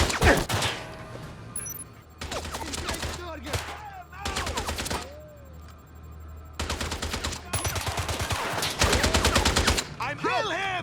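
Gunfire crackles through a James Bond 007: Blood Stone firefight at a refinery, loud bursts of rapid shots coming in repeated volleys with short gaps, mixed with game sound effects and occasional shouted voices.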